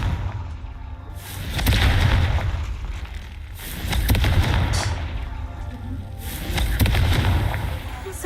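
In Hogwarts Legacy, repeated Confringo fire-spell blasts sound as three rolling booming explosions with crackling tails, spaced a couple of seconds apart over game sounds.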